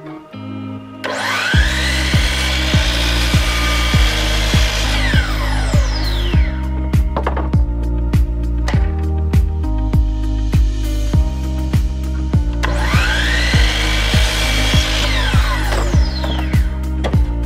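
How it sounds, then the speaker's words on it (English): A power driver drives screws while clamping a wooden bar-top joint. It gives a loud droning whine with repeated short bursts, rising in pitch as it spins up, in two longer runs a few seconds apart. "So I'm gonna go ahead and screw and clamp this sucker up."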